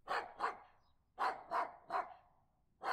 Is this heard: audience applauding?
no